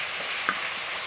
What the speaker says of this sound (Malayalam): സവോള നന്നായിട്ട് വാടിക്കോട്ടെ.